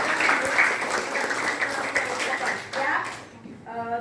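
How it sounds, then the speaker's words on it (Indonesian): Classroom applause from pupils, a burst of dense clapping that swells, dips and then fades out, with a teacher's voice briefly heard as it ends. "Kita tepuk tangan dulu untuk kita ya."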